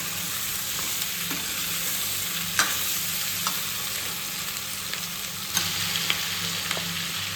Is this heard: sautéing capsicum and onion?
yes